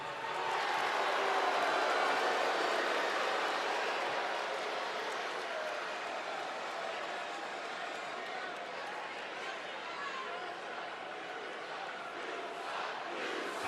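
A wrestling arena crowd at a WWE Raw event roars and cheers continuously, a dense, loud wash of voices that swells early and then holds steady throughout.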